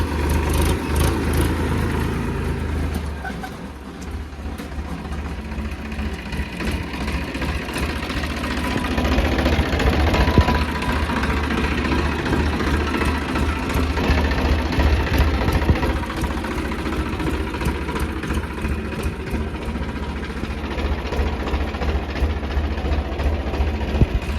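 A Massey Ferguson 7250 tractor engine idles steadily close by, a low continuous rumble with a faint rhythmic knock, running alone without any voices for the whole stretch.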